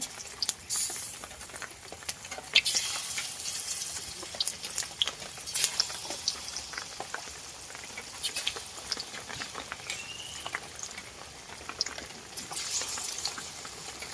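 Soft, irregular popping and spitting of gram-flour batter drops frying in oil for motichur laddu, fairly quiet and close, with scattered crackles and no voices.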